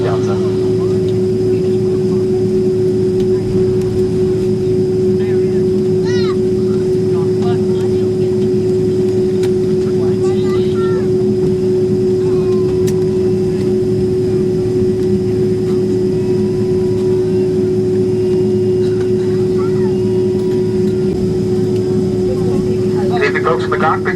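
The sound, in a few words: Delta Boeing 767-300ER jet taking off from Atlanta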